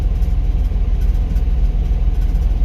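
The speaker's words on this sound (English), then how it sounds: "I'm in my truck and it's running." A pickup truck's engine idles with the air conditioning off, a steady low, throbbing rumble heard from inside the cab, with no talk.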